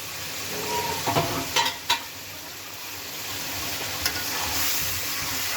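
Potato and papaya pieces fry in spices in a pan, giving a continuous loud sizzle with a few brief scraping stir sounds near the start.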